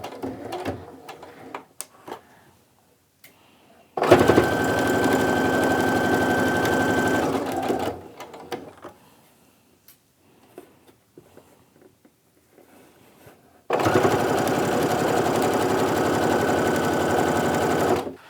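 A sewing machine stitches a quilt block seam in two loud, steady bursts of several seconds each, separated by quiet handling noises and brief pauses.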